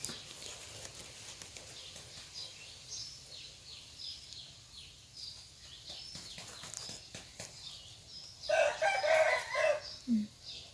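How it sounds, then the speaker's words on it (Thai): A rooster crows loudly near the end, following quieter rustling and faint tapping in the background, with no talking. "ไก่ก็ขัน"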